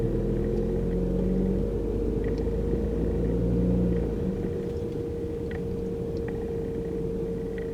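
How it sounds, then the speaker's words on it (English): Heavy road traffic: a steady low rumble of engines and tires close by, continuous and fairly loud, with faint higher clicks over it. "the traffic is so fucking bad today"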